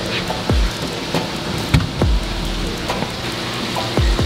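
Water pours and splashes steadily into a planted aquarium tank, with bubbling, gurgling drips and occasional louder plops over a continuous rushing wash.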